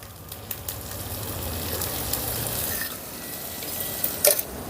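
Mint paste, ground smooth in a mixer, hits a pan where ginger-garlic paste has been frying, giving a steady low sizzle with light stirring scrapes and a brief clink near the end.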